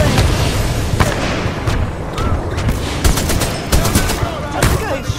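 Rapid gunfire in the game Titanfall 2: loud, dense bursts of shots with sharp cracks and booms crackling continuously through a heavy combat din, with a voice faintly beneath.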